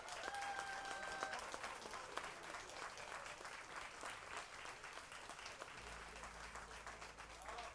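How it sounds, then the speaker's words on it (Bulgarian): Audience applause for musicians at an evening concert in Bulgaria, a steady wash of many hands clapping at moderate distance, fairly faint and continuous, with a brief tone early on and a low hum entering near the end. "аз мисля, че тези аплодисменти са за тези музиканти тая вечер всеки път"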